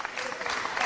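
Crowd applause at a 2002 independent wrestling match, the Ted Petty Invitational Tournament, with Chris Hero facing CM Punk; a brief, dense wash of clapping from a large audience, steady and fairly loud.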